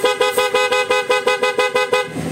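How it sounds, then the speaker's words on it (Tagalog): A Honda ADV160 motorcycle's stock horn, after water from a pressure washer got into it and it was rewired, sounds in about ten short, loud, evenly spaced beeps. The pulses are rapid and close, with no talk over them. "Good na yung stock horn natin."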